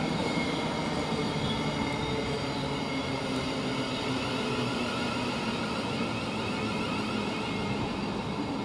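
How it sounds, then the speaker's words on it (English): A Thameslink Class 700 train, unit 700-053, sits at Rochester station, giving off a steady, even rumble and electric hum that holds at one level throughout, with no voices. "Now we're getting the Thameslink train 700-053"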